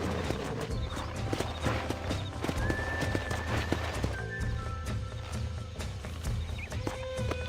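Horse hooves clip-clop steadily with whinnies and neighs in the Red Dead Redemption video game, loud and close over a continuous game soundtrack.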